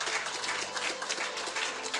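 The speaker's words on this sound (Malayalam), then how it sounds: "2 പേർക്കും നല്ലൊരു കയ്യടി കൊടുത്തേ." Audience applause for two prize winners at a church catechism event in Kalady: a brief, dense burst of clapping from a crowd, steady and moderately loud.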